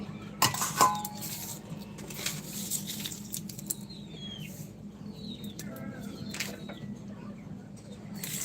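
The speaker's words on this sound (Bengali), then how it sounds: "চলো এবার আলুটা কেটে নিই" Knife chopping potatoes in a home kitchen, a few sharp clinks and taps of the blade against a board or dish, with light clattering and faint bird chirps in the background.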